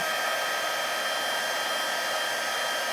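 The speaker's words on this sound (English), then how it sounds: "Just want to make sure that you are moving the heat tool so you don't scorch your cardstock" A heat embossing tool blows hot air over cardstock in a steady, loud, close whooshing roar that holds unchanged throughout, with no voice.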